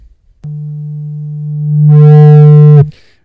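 Square-wave tone from a Yamaha CS-5 analog synthesizer, a single held note that starts suddenly, swells brighter and louder partway through, then cuts off cleanly, alone with no talk.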